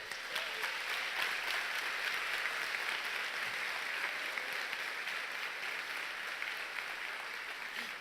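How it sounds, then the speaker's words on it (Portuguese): A church congregation applauds during a sermon, with a dense, continuous wash of clapping from many hands that holds steady for several seconds without speech. "Dê um aplauso a Deus."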